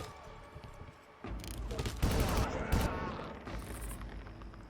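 Assault rifle fire in Far Cry, a dense volley of rapid shots and booming impacts swelling over a background rumble, loud and close, with a voice briefly audible beneath.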